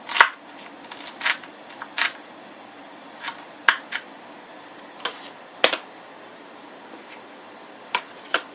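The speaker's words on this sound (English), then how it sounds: "So I'm just going to cut these onions really small" A knife chops onions small on a cutting board for a casserole meal prep: sparse, close, sharp taps spaced irregularly over a quiet background, no talking.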